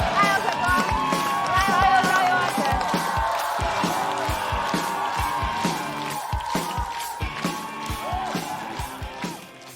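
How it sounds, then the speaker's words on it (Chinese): A comedy show audience applauds and cheers to welcome a stand-up performer onstage, with dense, rhythmic clapping from a large crowd that stays loud and then tapers slightly. "我们最热烈的掌声欢迎阿"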